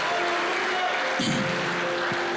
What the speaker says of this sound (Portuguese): já fica em pé também aplaudindo e dando glórias a Jesus